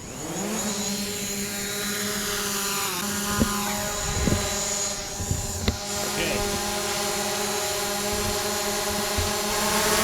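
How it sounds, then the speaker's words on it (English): A DJI Mavic Pro drone flying with a steady high-pitched propeller whine and buzzing hum that holds throughout, with a few small knocks and handling sounds nearby. "Okay, so there's my Mavic Pro. We're going to go for a flight."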